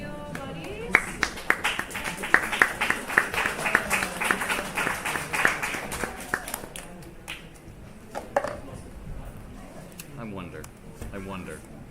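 An audience claps for student presenters at a tech impact project event, a burst of applause that fades after several seconds, with talk heard over it.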